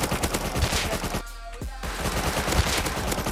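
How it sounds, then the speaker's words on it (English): Rapid automatic gunfire from a shooter video game rattles loud and close in dense bursts, cutting out for a short moment halfway through before the shooting resumes. "Shooting one guy and shooting one guy."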